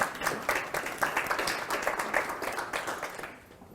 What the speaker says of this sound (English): we'll give her another clap